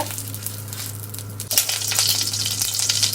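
A teaspoon of butter hits a hot pan, quiet at first and then breaking into a loud, steady sizzle and crackle that fills the second half, with no talking.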